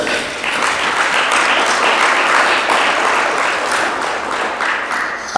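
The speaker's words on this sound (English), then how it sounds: "I want you to give yourselves all a round of applause." An audience at a national tourism debate competition claps in a sustained round of applause, a thick, even wash of many hands at steady loudness with no voices over it.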